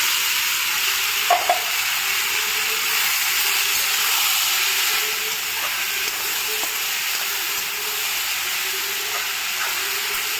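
Jackfruit sautéing in ghee in a pan gives a steady, broad sizzle and hiss throughout, with a few faint scrapes of a spoon, close and even in level.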